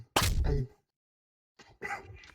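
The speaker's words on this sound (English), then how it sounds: "Specifically, that noise is that I am kicking you." A sharp kick impact in a GTA roleplay game: one loud, close thwack, then a short silence and a softer scuffling burst afterward.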